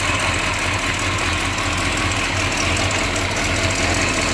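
A 1955 Hudson Rambler engine, slightly cammed, idles steadily up close with a low continuous rumble, and a faint tick from the passenger side sits in the drone.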